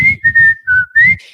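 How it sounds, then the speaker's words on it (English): A single person whistles the Andy Griffith Show theme, a clear, loud melody in short phrases with brief breaths between notes. "So I started whistling the theme song from the Andy Griffith Show."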